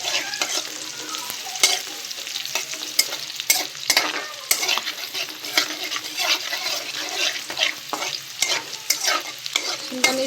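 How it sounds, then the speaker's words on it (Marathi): Capsicum frying in oil for pav bhaji, a busy crackling sizzle up close with frequent sharp spatula clicks and stirring against the pan. "थोडीशी शिमला मिरची आपल्याला चांगली तळून घ्यायची तेलामध्ये"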